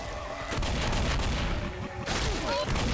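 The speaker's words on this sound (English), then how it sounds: "You watch me shoot the witch." Rapid gunfire bursts sound while shooting the witch in the video game Left 4 Dead, a loud dense fusillade of shots with a brief lull before another volley.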